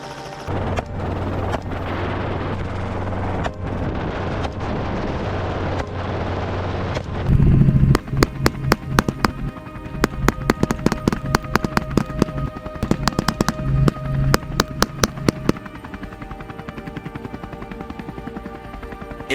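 Gunfire during a wild boar hunt in open grass, with a dense burst of sharp shots in the middle and scattered cracks before and after over a continuous noisy background.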